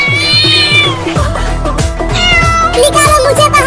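A caged cat meows loudly and repeatedly, drawn-out wavering cries close by, with a harsh, caterwauling edge.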